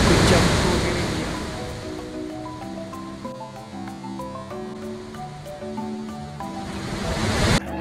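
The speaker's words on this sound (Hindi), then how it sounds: "पानी का इतना शोर था यहाँ पे कि बाकी कुछ सुनाई नहीं दे रहा था" Loud, rushing water at a waterfall in Meghalaya, a broad roar that dominates at the start and end and dips in the middle under a melodic music track.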